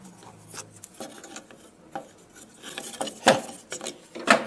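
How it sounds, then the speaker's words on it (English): Scraps of scrollsawn wood and tape being pulled off a band-saw compound-cut scrapwood reindeer, soft rubbing and rasping scrapes that build into a few louder snaps and pulls near the end. "Now, we just remove all the scrap and all the tape."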